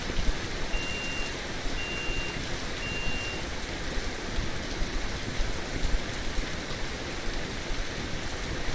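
Steady rain from the Russian Fishing 4 game, a dense even hiss of drops falling on a surface, constant and fairly loud throughout with no voices.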